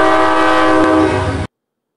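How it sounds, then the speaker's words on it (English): A model locomotive horn from an MTH Proto sound system plays back as a loud sustained chord with harmonic layers, holding steady for about a second and a half before cutting off abruptly into silence. "I will now play the horn to see what it sounds like in its current state"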